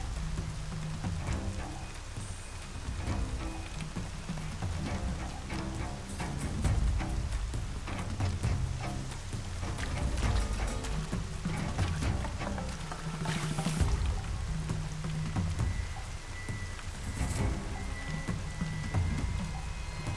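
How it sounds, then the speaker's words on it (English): Steady rain falls across an outdoor scene in Horizon Zero Dawn, a continuous soft hiss of drops on the ground with low rumbling ambience underneath, holding at an even level throughout. "Rain's not so bad."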